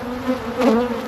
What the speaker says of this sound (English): yeah, bees everywhere.